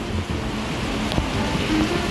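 Heavy evening rain pours steadily at Wang Lang in Bangkok by the river, a loud, unbroken hiss that fills the whole clip.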